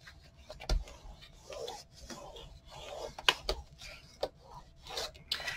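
The glued hinges of a handmade book cover are worked by hand, giving soft close rubbing and creasing strokes with a few sharper taps, quiet and uneven.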